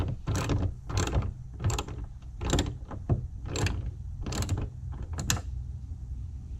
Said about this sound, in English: we just gotta take this bolt out